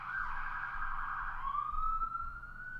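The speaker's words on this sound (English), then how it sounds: "I live in the town centre near a hospital, so there's always sirens going on." An emergency vehicle siren wails in a town centre near a hospital, one long tone that slides and shifts pitch, heard alone from some distance.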